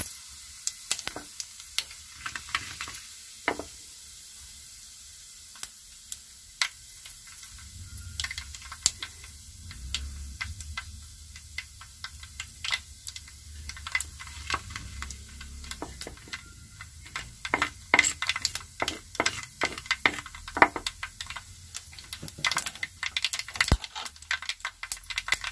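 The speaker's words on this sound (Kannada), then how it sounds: "ಸಾಸಿವೆ ಚಟಪಟ ಅಂದಿದೆ." Cumin and mustard seeds sizzle and crackle in hot oil, with scattered sharp pops and ticks rising over a steady low frying hiss that builds toward the end.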